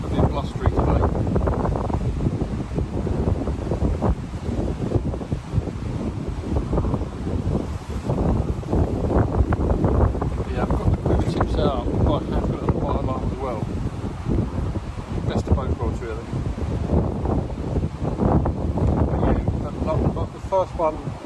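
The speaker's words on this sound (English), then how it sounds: "You can hear it is a bit blustery today." Gusty wind buffets the microphone beside the River Nene during a fishing session, a loud continuous rumble with rushing surges throughout and a voice talking underneath.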